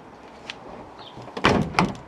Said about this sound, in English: I also need to adjust the door because it doesn't sit right